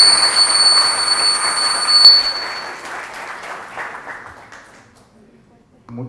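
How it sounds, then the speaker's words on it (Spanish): Applause in a hall greets Miraflores' mayor at a science and technology program presentation. A dense clapping burst tapers away over several seconds to near silence, and a high ringing tone sits over its start. "para él pido un fuerte aplauso"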